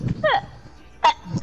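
A person sneezes sharply, close to the microphone, with a short intake beforehand and a quick second burst a moment later.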